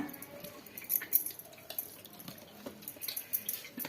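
Coconut milk squeezed through a cotton cloth drips and trickles in faint, irregular spatters close by, with small splashes scattered unevenly.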